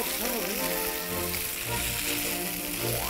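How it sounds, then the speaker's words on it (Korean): Crab sticks stir-frying in butter give a continuous soft sizzle with a light rain-like patter, under steady background music. "버터에다가 게맛살 볶는 거예요?"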